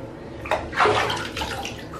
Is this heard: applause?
no